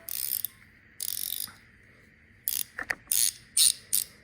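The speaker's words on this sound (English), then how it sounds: "The lever for the reversible ratcheting mechanism sits below that." A Craftsman V Series reversible ratcheting wrench clicks in quick rapid bursts, a couple of longer runs followed by several short cranks, close and crisp in a quiet room.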